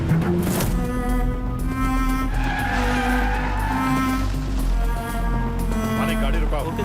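A police jeep skids to a halt on a forest road in a dubbed film scene, a loud, drawn-out tire screech and engine rumble lasting several seconds, with voices speaking over it.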